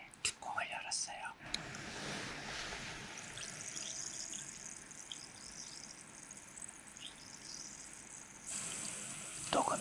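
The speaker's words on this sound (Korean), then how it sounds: "녹으면서 거품이 나오는 소리가 아주 시원한 물이 흐르는 것과 같이 마음을 후련하게 해주는 그런 소리인 것 같아요" An effervescent vitamin tablet dissolving in water gives a soft, close, continuous fizzing hiss, like faint trickling, recorded quietly with a few light clicks and a brief stir of motion.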